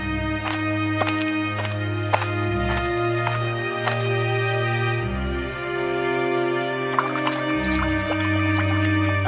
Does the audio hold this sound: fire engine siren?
no